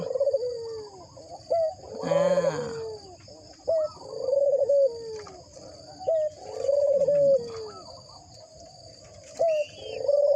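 A dove coos repeatedly in a cha-om garden in the early morning, its phrases recurring every second or two, fairly close and clear over a faint insect hum, with a brief murmur from a person.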